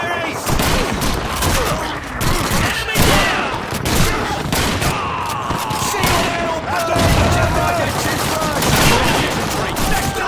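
Rapid bursts of gunfire from a World War II era rifle in Call of Duty 2, a prisoners-of-war mission, dense and loud throughout with explosions mixed in and someone talking over the shooting.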